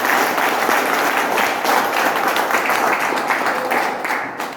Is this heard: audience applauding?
yes